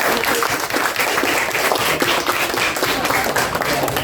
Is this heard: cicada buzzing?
no